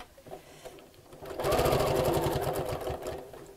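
A sewing machine sews straight lines on fabric for a dust cover, running in a close, loud, rapid burst for about two seconds after some quiet handling, then slowing to a stop.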